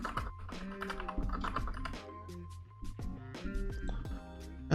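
Rapid clattering keystrokes on a new computer keyboard, close and continuous with uneven rhythm and brief pauses, no one speaking.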